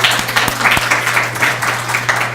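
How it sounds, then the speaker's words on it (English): Audience applause after a participant is praised at an education session, steady close-up clapping with a few sharp individual claps and a constant low hum underneath, no talking. "Can everybody give Deborah a round of applause?"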